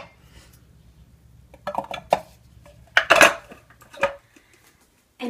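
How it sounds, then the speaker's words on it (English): Cashews and almonds are tipped into a bowl, producing clustered rattling clatters and clinks in several bursts, the loudest in the middle, heard close with no speech. "Now we're just going to add our nuts to the bowl."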